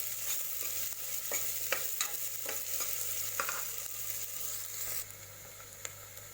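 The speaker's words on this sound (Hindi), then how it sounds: "गोल्डन ब्राउन करना है अच्छे से।" Chopped onions sizzling in a pan with cinnamon and cloves as they fry toward golden brown, soft steady hiss broken by several sharp scraping stir strokes, then quieter frying alone.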